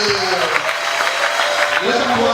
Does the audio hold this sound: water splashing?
no